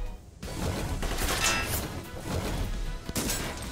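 Gunfire from mechs in the tactical video game Front Mission 1st Remake rings out, a dense burst of repeated shots and impacts with brief pauses, loud and close, without speech.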